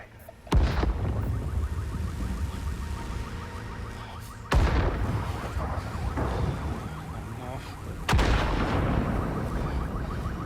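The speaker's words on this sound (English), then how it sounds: "Those are some really big explosions" Three heavy booming video-game explosions in Watch Dogs: Legion, each a sudden loud burst followed by a rumbling, crackling tail, spaced a few seconds apart.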